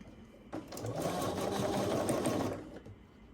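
A sewing machine stitches a quilt block in one continuous run of rapid, even mechanical whirring lasting about two seconds, close and clear with no talking.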